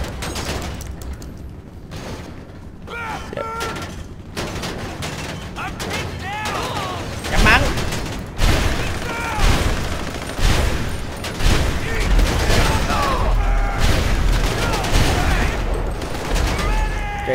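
Gunfire in the video game GTA 5 during a military base assault, repeated volleys and rapid shots through most of the stretch, loud and near, with a voice speaking over the action.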